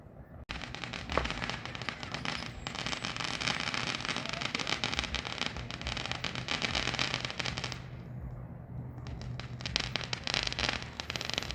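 Fireworks going off in the distance during a 250th Fourth of July celebration, a dense continuous crackle and popping that runs throughout, faint and far off, with a brief lull near the end.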